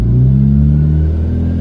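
Nissan engine idling in an open engine bay, a loud, steady low rumble with a constant droning hum and no revving, close to the listener.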